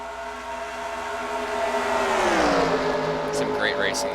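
Racing trucks in a Michigan round of the American Truck Series in a racing game roar past, their engine note swelling and then dropping in pitch, with a commentator talking over the pass.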